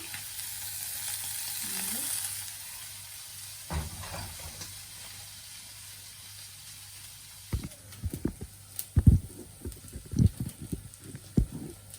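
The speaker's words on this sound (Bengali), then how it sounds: "পেঁয়াজটা ভাজা হয়ে গেছে" Chopped onion frying in a wok at home: a low faint sizzle hisses throughout, with several sharp stirring clatters and scrapes bunched toward the end.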